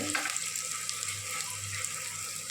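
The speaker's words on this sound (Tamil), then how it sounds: "வெங்காயம் நல்லா ப்ரௌன் வதங்கிட்டு ரொம்ப கருணை விடக்கூடாது." Onions frying in a pan for chicken biryani give a steady, close, bright sizzle that runs without a break, with a low hum underneath and no voices.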